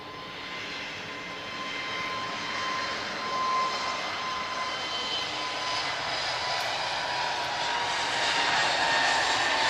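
An Airbus A330 jet airliner arrives at Lisbon Airport with a broad, steady engine roar that swells gradually and stays heavy from start to finish, heard from a distance with no talking.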